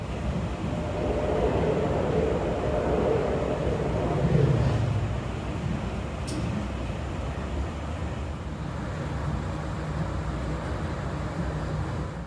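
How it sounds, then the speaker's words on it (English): Rumbling rail noise from inside a moving Metra BNSF express train as an inbound Metra commuter train passes close by near Route 59, a steady low roar with a brief swell, no voices. "We would meet Metra inbound 1262 just outside of Route 59."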